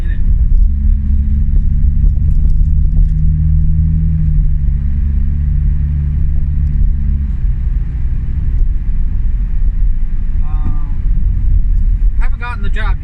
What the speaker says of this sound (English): if I'm going to warm up the car, I'm going to warm up the car without me in it.